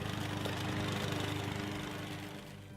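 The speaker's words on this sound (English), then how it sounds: "Leaves or fine hedge clippings can be shredded using a powerful lawnmower." Powerful lawnmower used to shred leaves and fine hedge clippings, a steady close engine drone with a rough, knocking hum that fades slightly toward the end, no voices.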